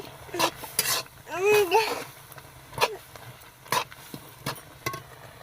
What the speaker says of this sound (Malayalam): എരിവിന് ആവശ്യമായിട്ടുള്ള മുളക് പൊടി എന്താ നന്നായിട്ടൊന്ന് ഇളക്കി കൊടുത്തി